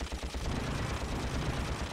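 Continuous rapid weapon fire in Ratchet & Clank, a dense, buzzing stream of shots with a steady pulsing rhythm, loud and unbroken for a couple of seconds.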